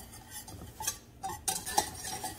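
A utensil stirs flour into melted butter in a pan, making light scraping and clinking against the metal in a few uneven strokes over a faint sizzle, close and fairly quiet.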